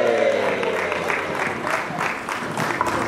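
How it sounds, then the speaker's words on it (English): Audience applause at an evening event, a dense continuous patter of many hands clapping throughout, steady and moderately loud, with voices mixed faintly into the crowd noise. "Put your hands together, a round of applause."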